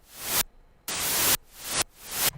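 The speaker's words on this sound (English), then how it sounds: "I wish I could make the white noise stereo a little bit easier" White noise from a Serum software synthesizer plays in repeated bursts, each swelling louder before cutting off abruptly into near silence, four times in quick succession.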